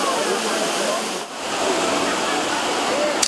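Fresh water flowing steadily at Los Chorros tourist park, a continuous broad rushing wash with no pauses, fairly loud and close throughout.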